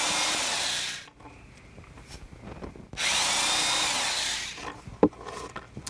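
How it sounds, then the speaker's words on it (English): A power drill whirs loudly for about a second drilling into seed pods on a board, pauses with small scraping noises, then drills again for two seconds before a sharp click. "I'm going to just drill a hole in the middle of each of these"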